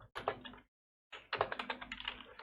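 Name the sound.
typing a command on a computer keyboard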